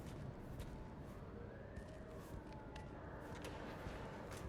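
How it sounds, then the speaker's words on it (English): Faint police sirens in the video game Cyberpunk 2077 wail in the distance, rising and falling under a steady background hum. "We can hear the police sirens going off."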